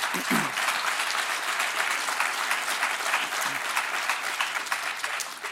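An audience applauds during a governor's State of the State address, broad sustained clapping throughout, with a brief voice over it at the start.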